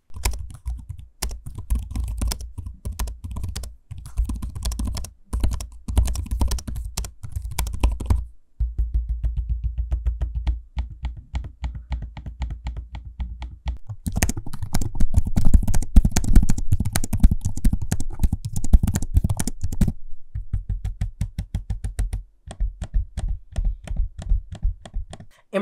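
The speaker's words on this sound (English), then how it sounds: "Here's a quick audio sample of me using both the keyboards and trackpad" Rapid, steady clacking of laptop keys close up, broken by short pauses and bursts of firmer tapping and clicking, with no voices.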